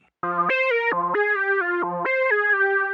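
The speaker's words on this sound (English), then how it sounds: "this is a Juno sound" A warm analog Juno synth preset with long sustain plays chords that hold and change, rich and chorused, each chord ringing on smoothly without gaps.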